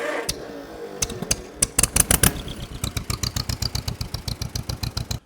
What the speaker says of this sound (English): this thing will fire up and run just like any other piece of equipment would